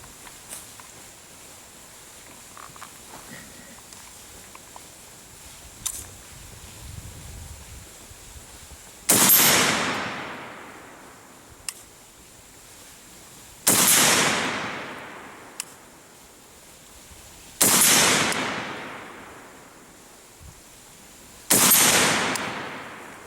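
Four loud, sharp rifle shots from an AK rifle fitted with an Ultimak rail and Bushnell TRS 25 red dot, fired offhand at an outdoor target, each crack spaced a few seconds apart with a decaying echo.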